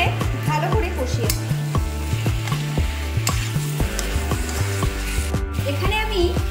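Ground chilli, Kashmiri chilli and cumin powder sauté in a pan with sharp clinks and scrapes of a spatula against the metal over a steady frying sizzle, with a brief voice briefly in the background.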